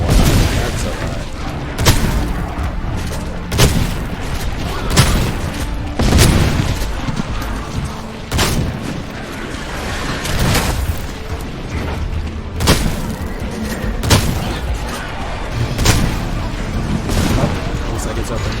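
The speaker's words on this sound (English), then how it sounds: "Grenade." Grenade blasts and heavy booming weapon fire thud repeatedly in the sci-fi shooter SYNCED: Off-Planet, loud and dense across the whole stretch, with a player's voice talking over the battle.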